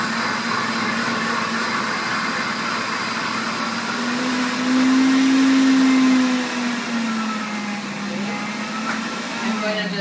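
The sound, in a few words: blender whipping cream into butter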